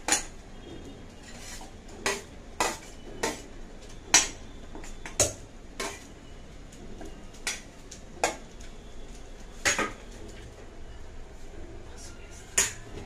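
Turmeric, onion, green chilli and coriander being stirred in a pan for raw tomato dal, a spoon clinking and scraping against the metal in irregular sharp taps, close and clear with faint background hum.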